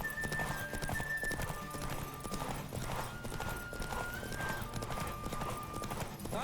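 Horse hooves gallop in a steady rapid clip-clop in The Witcher 3, with an occasional whinny and soft game ambience underneath, fairly quiet overall.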